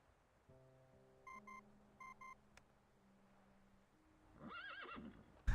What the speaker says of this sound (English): The communicator's noise startles the nibbling horse. It lifts its head and bolts into the distance.